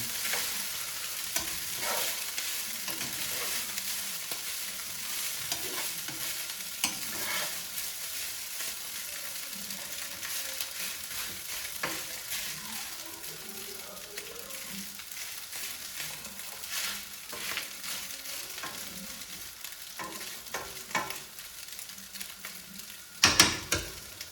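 Steak fried rice stir-fried in a thin coat of oil over high heat, a steady loud sizzle with repeated scraping and stirring strokes throughout and a few sharp clanks of the utensil near the end.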